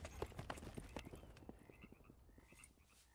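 Horse hooves clopping in Red Dead Redemption II, a fairly quick irregular run of hoof hits, louder at first then fading into softer steps, with faint animal calls in the background.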